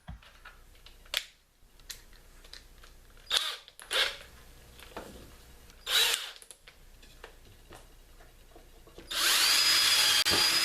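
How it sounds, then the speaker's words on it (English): A power drill whirs in several short bursts with pauses between, then runs steadily and loudly near the end, drilling holes in the wood of a top bar brood frame. "to do this you want to drill a couple holes on either end"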